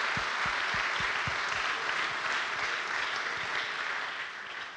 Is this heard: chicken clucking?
no